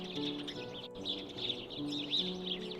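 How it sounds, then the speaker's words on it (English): A nuthatch chirps from inside a bush close by, a busy run of quick high repeated calls with other birds chattering steadily around it outdoors. "Yeah, this guy's chirping away."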